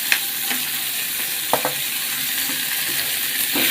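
Chopped onions frying in a pan for a Bengali egg curry with mustard, a steady hissing sizzle with a few soft clicks of stirring, close and without talk.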